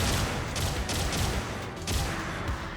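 A Zaku mobile suit's Vulcan cannon in GBO2 fires a rapid, dense stream of shots, loud and continuous for a few seconds with no talking.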